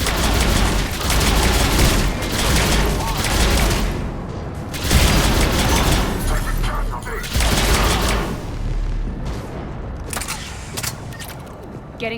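Heavy booming cannon blasts in the video game Mass Effect 3 go off again and again amid a dense, continuous roar of battle, loud and close throughout.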